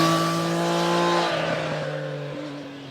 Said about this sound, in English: the inline triple motor complements the entire experience with that spine-shivering exhaust note